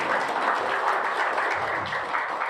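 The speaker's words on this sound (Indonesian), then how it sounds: "Tepuk tangan buat Tuhan Yesus." Church congregation applause, a loud continuous wash of clapping from a large crowd filling the room, steady for a couple of seconds with no voice over it.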